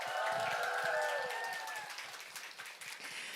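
Fans at a K-pop album showcase give a burst of applause, faint and slightly distant, while a host's voice carries over it early on before the clapping thins.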